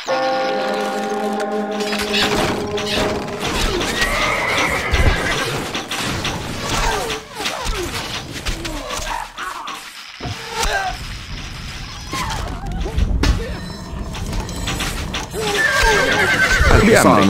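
Horses whinny loudly at the start and end, with galloping hoofbeats and clattering in between, set against a busy soundtrack from the game Stronghold Crusader.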